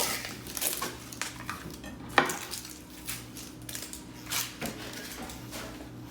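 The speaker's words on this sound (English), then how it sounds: "So we're just gonna chop this guy up too." A knife trims and cuts a white onion on a cutting board, giving scattered light taps and clicks at an uneven pace, fairly quiet and close against a soft room background.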